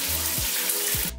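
Water running from a tap before a shower at home in Singapore: a close, steady rushing hiss with a low hum beneath it, cutting off abruptly at the end.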